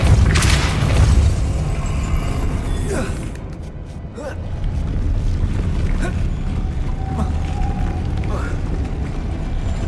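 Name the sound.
Depulso spell cast in the video game Hogwarts Legacy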